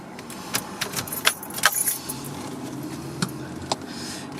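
A key jangling on its ring and turning in the ignition of an electric VW Beetle, a few close metallic clinks and ticks, followed by faint clicking over a low hum.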